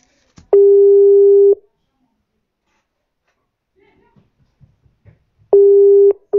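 An outgoing phone call rings back with two loud, steady one-second tones separated by about four seconds of near silence. Faint clicks and handling sounds fill the gap.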